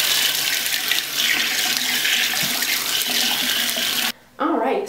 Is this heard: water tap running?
yes